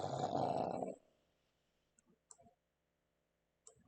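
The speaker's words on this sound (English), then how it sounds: "I look around. Snoring bear." A bear snoring sound effect in a fantasy tabletop role-playing adventure: one loud, rough, rumbling snore lasting about a second, then a few faint, scattered soft noises in near silence.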